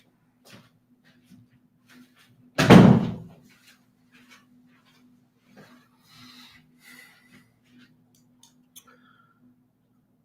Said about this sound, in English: Let me shut this one other door in here